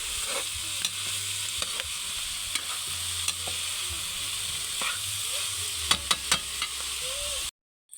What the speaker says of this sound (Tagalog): Tinadtad nga puso ginisa sa gulan o backbone.